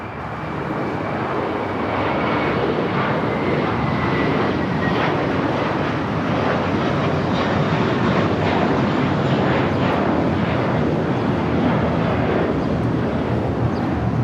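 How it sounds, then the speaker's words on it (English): An American Airlines A321, about ten years old, takes off from LAX runway 25 left, its engines a loud, steady broadband roar that swells in the first seconds and then holds strong and continuous, with no voices. "Next takeoff is a flight heading to Dallas, Fort Worth, Texas. American Airlines Flight 2091. It's a 10-year-old A321."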